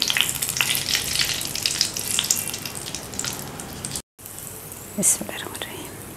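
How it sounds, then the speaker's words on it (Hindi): Cashews roast in a pan with a continuous crackling sizzle. The frying noise is louder at first, cuts out briefly, then comes back quieter with a few clinks and scrapes. "20-25 दाने काजू के ले लें, उसको भी भून लें।"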